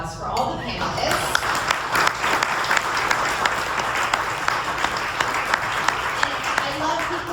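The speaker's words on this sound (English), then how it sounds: "I just wanted to give one last round of applause for all the panelists." An audience at a panel discussion on second-chance employment breaks into loud, sustained applause, dense clapping that fills the room for several seconds after a brief spoken introduction.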